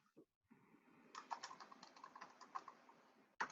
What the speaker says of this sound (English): Like Dan, you're typing up something you want to verbalize?